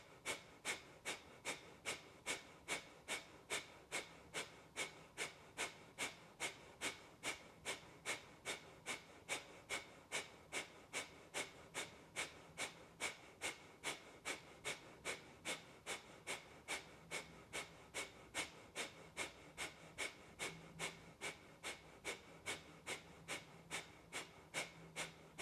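Rhythmic, forceful pumping breaths from a yoga breathing exercise, a steady, even pulse of short exhalations roughly two to three per second that repeats without a break for the whole stretch, close and moderately quiet, with no talking.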